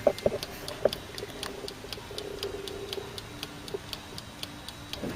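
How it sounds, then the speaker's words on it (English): A mechanical microwave timer fitted to a Ford Cortina Mk3 ticks steadily and quietly, a regular light clicking rhythm with a faint hum underneath. "a microwave timer on it"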